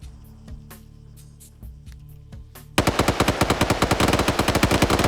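Rapid automatic 7.62 rifle fire in a competitive video game, a loud, close, evenly spaced stream of shots that bursts in after a few seconds of quieter game ambience with faint distant shots.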